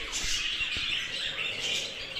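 Continuous high-pitched squawking and chirping from several pet birds nearby in a large aviary cage, a busy overlapping chatter with no talking.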